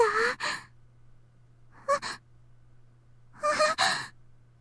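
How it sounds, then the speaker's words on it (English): Three short, breathy gasps of astonishment from a visual novel come in separate bursts, close and clear, over a faint steady low hum. "I hear a gasp in astonishment."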